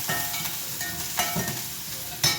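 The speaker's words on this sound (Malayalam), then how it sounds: "ഇനി ഞാനിവിടെ അരിഞ്ഞു വച്ചിരിക്കുന്ന സവാള പച്ചമുളക് കറിവേപ്പില ഇതെല്ലാം ഇതിനുള്ളിലേക്കിട്ട് നന്നായി നന്നായിട്ടൊന്ന് ഇളക്കാം" Onion, green chili and curry leaves tossed and stirred in a very hot pan for a jackfruit thoran, crackling steadily up close, with a few louder scrapes and clatters of the spoon and no speech.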